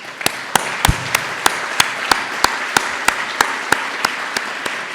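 Audience applause at a university fall faculty address, with sharp, evenly paced claps from nearby hands standing out above a softer spread of clapping from the wider crowd, steady and sustained.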